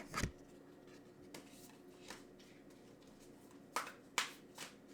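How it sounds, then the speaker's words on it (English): Tarot cards are shuffled in a few short riffling bursts with pauses between them, close and fairly quiet, with no talking. "as I start to shuffle"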